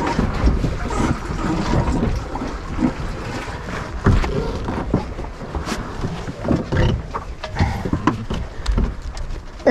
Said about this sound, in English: And we're sailing back the other way again.